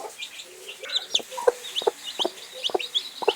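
A brooding kienyeji hen on a poultry farm clucks in a steady run of short, close, low calls, with a few higher chirps behind them.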